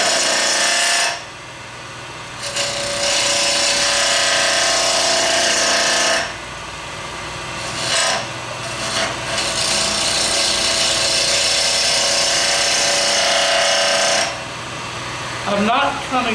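Bowl gouge cutting wood on a lathe while turning a heart-shaped wine glass, a loud, close scraping hiss in long passes with short pauses between cuts.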